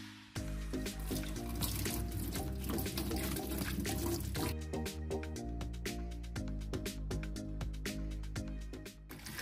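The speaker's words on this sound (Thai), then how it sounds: "เราจะเทราดลงไปเลยครับ" Warm water is poured steadily into a kitchen sink drain clogged with grease and food scraps, giving a continuous splashing gush that fills the clip.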